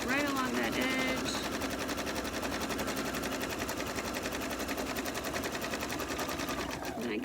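A sewing machine top stitching along the edge of a cloth napkin gives a fast, loud, continuous rattle at close range, with a voice talking briefly at the start.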